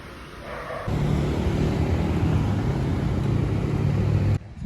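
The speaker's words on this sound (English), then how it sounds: "I can finally hear this bus coming" A bus rumbles along a quiet street in Mexico early in the morning. A steady low engine drone and whir rises sharply and holds loud and close for several seconds, then cuts off suddenly, with no talking.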